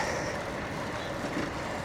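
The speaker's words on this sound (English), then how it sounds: "It's windy." Wind roars steadily against the microphone outdoors along Queens Boulevard as a broad, continuous rush with no other sound.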